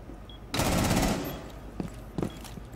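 Rapid gunfire burst in the video game Rainbow Six Siege, a loud automatic volley lasting about a second, followed by two faint, brief distant shots.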